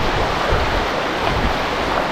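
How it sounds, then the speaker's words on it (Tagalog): Loud, continuous rushing water from a strong river roars steadily with no pauses, a dense broadband wash close to the microphone. "Grabe ang tubig bro,"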